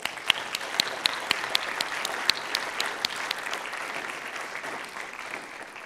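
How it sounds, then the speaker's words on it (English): An audience at a Rolleston College Year 13 prize giving claps for school staff, a fairly quiet, scattered applause with sharp individual claps that gradually thins out. "we will give them a round of applause"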